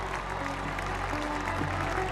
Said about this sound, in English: What a crowd though, they're bringing the noise.